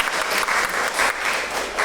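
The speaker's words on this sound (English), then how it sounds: "Round of applause for Sarah Gunn." A group applauds Sarah Gunn, a brief burst of steady, fairly loud clapping from several people, with no voices over it.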